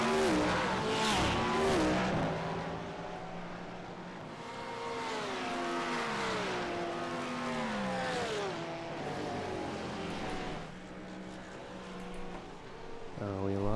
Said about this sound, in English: We locked it up a little bit in that corner.